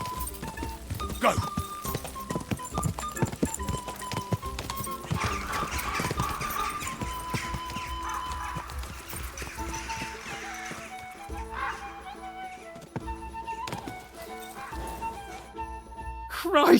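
A horse gallops in the medieval video game Kingdom Come: Deliverance 2, rapid hoofbeats with occasional whinnies under game music and voices, steady and fairly loud.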